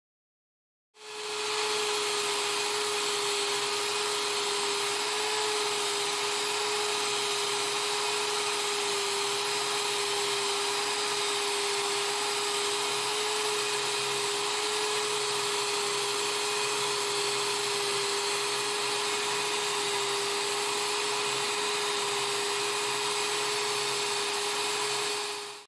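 A power tool polishes the kickstarter lever of a 1977 Honda 750 Hondamatic motorcycle, giving a steady, loud, high-pitched whine with a constant tone that runs unbroken for about 25 seconds, with no talking.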